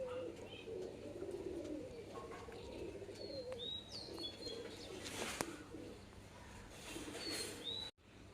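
Tiger-breed pigeons coo in soft, low, repeated murmurs close by, with a few higher bird chirps and faint background noise.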